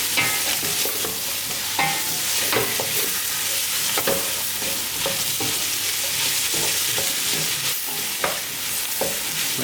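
Dried pepper fries in a hot pan with a steady close sizzle, broken by repeated soft scrapes and taps of a utensil stirring through it, and no one talking.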